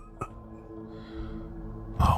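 A forced cough in a post-apocalyptic survival horror story: a brief throat-clearing burst, then a louder, harsher cough close by at the end.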